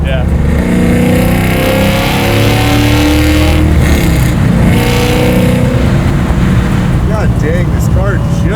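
A 700-horsepower Chevy Nova sleeper with a supercharged LSA V8 pulls hard while accelerating, its loud, continuous engine drone and road roar heard from inside the car as people talk over it.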